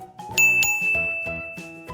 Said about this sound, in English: hit that Captain Pickle bell.